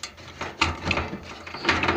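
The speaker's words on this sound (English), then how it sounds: "Take this screw out here." A screw being worked out of a microwave oven during scrapping, giving quick ratcheting mechanical clicks, close and fairly loud, repeating in an uneven rhythm.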